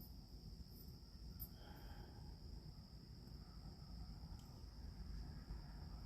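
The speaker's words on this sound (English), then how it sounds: "Can you hear my crickets?" Steady high-pitched insect chirring, like crickets, continuous and fairly faint over a low rumbling background with no talking.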